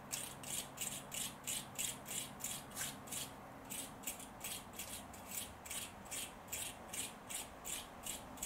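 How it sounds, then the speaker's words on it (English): A wire brush scrubs the brake caliper bolts from a 2007 Mercedes C-Class W204, giving faint, steady back-and-forth scratching strokes in an even rhythm with no talk. "I just brush that off with a wire brush"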